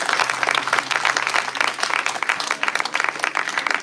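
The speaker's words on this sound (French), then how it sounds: "Est-ce qu'on peut applaudir Dieu pour ça?" A church congregation at a Friday prayer and worship service claps and applauds together, a dense and lively burst of many hands, loud and close, with scattered cheering voices underneath.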